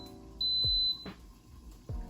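An electric pressure cooker gives a single high electronic beep lasting about half a second as it starts, followed by soft clicks and thumps nearby.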